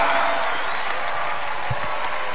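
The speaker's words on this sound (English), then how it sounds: "they're hearing the appreciation from the crowd" Crowd applause in an arena after the Ottawa Skyhawks' 115-108 home basketball win at the Canadian Tire Centre, a steady broad wash of clapping and cheering that runs the whole time.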